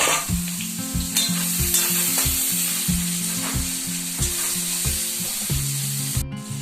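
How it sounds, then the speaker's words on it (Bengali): Boiled potatoes frying with onion in a hot, oily pan: a loud, steady sizzle runs throughout, broken by repeated close scrapes of a spatula stirring against the pan. "এই যে আলুগুলো সেদ্ধ করে রেখেছিলাম, পেঁয়াজের সাথে একেবারে আমি ভাজা করে দিলাম"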